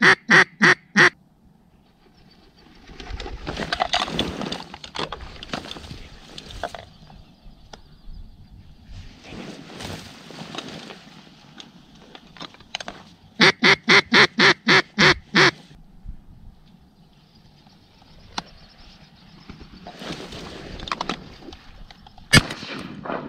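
Shotgun blasts crack out at ducks over decoys on an icy oxbow, with green-winged teal among the birds. Quick bunched volleys of shots come near and loud, mixed with raspy duck quacks and quieter stretches of marsh noise between.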